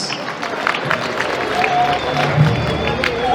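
Applause at a wedding ceremony: a steady patter of many hands clapping from a gathered crowd, moderately loud, with a faint voice and murmuring mixed in underneath.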